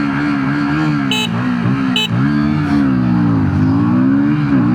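A KTM Duke 160 and a Yamaha MT-15 accelerate hard side by side in a drag race on a road, engines droning loud and near, pitch climbing and dropping with gear shifts, with a couple of brief high clicks.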